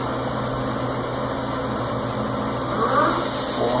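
An Ikegai TUR 30L CNC lathe with live mill drill spinning its spindle at 200 RPM, heard as a steady, continuous machine hum with a faint whine, close and even throughout.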